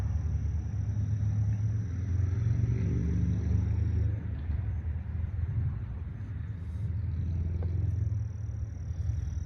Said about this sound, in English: all you hear is cars and stuff going through